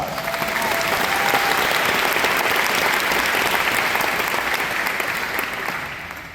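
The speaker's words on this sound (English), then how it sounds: "will you please give them applause?" An audience at a Lions Band Camp symphonic band concert at Hutchinson Community College claps in sustained, dense applause that stays loud and steady for several seconds before tapering slightly at the end.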